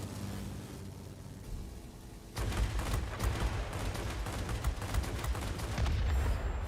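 Guns of a Bf 109 K-6 fighter open fire in World of Warplanes. A low engine drone comes first, then rapid, dense bursts of cannon and machine-gun fire hammer on and off over the steady aircraft hum.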